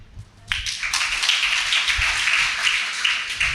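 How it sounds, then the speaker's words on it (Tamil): Congregation at a Tamil Sunday church service breaks into dense, steady hand clapping that starts abruptly and continues without pause for about three seconds. "கைத்தட்டுங்க."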